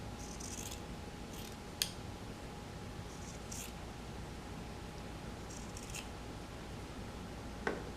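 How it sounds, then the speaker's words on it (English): Scissors snip through the sleeves of a shirt in a few short, soft crunching cuts spread apart, with a couple of faint clicks over a quiet, hissy background. "the first step is to cut off the arms. So I'll just get my scissors"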